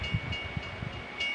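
A train in the OpenTTD video game rolls along with a low, continuous rumble under a faint steady whine, heard alone for a brief moment.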